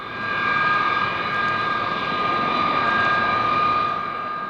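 A Boeing B-52 bomber passes at an air show at RAF Fairford, its jet engines making a loud, steady roar with a whining tonal hum that swells and holds throughout, no talking.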